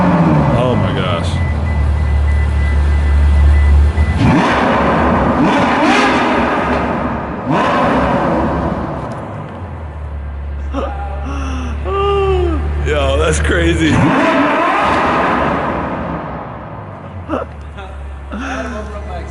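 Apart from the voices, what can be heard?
Ferrari F12 engine revving, open exhaust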